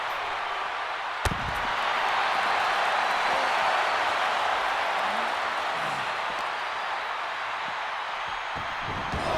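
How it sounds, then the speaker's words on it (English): A wrestling crowd fills Tampa Bay Stadium in Florida with sustained, loud cheering and roaring, a steady wash of noise for the full stretch, with one sharp slam-like impact early on. "The crowd going absolutely ecstatic right here at Tampa Bay Stadium"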